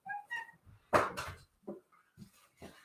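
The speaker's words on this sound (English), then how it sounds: "And just on time, my cat meows at me." A pet cat meows a couple of short times at a door indoors, with soft thumps and shuffling noises between the calls.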